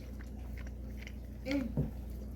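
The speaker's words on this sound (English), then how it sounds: "let me give these venison ribs a try here" Someone bites into and chews smoked venison ribs with a spicy rub, giving two quiet crunchy bites over a steady low background hum.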